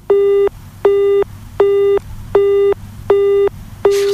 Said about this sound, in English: just have a listen to an engaged tone?